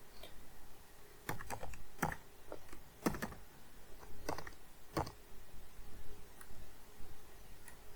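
Someone types a password on a computer keyboard, producing a handful of sparse, irregular key clicks at close range over a faint steady background hum.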